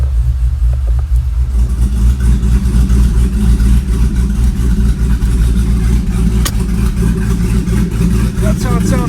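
Supercharged LSA-swapped 2009 Pontiac G8 GT V8 revving with its exhaust cutouts open, a loud, close, deep rumbling roar that holds steady and pulses through throttle blips.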